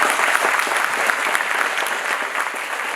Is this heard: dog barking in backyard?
no